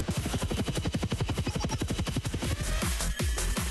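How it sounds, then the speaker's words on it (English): Helicopters approach in the video game Blue Archive, their rotors beating in a loud, rapid, continuous chop that stays close and steady throughout, with the pulses spreading slightly near the end. "Do you hear? Helicopters?"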